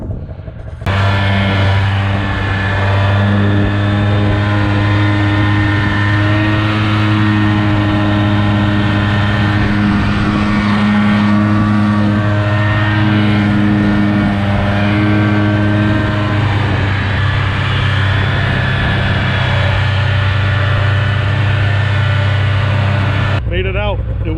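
A snowmobile ploughs through about two feet of deep, drifted powder across a frozen lake toward the woods, its engine droning loud and steady for the whole stretch with a strong, constant tone and little change in pitch.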